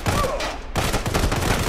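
Dense, rapid sniper video game gunfire crackles continuously, a loud burst of shots with a brief dip midway before the volley resumes.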